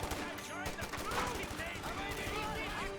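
A .50 cal machine gun fires in Company of Heroes 2, rapid rattling bursts among other battle gunfire, running under a commentator's talk.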